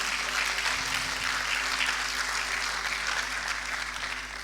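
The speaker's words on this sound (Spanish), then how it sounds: "Dale fuerte el aplauso al Señor." Loud, dense applause from a church congregation during a sermon, steady clapping filling the whole stretch and easing slightly toward the end.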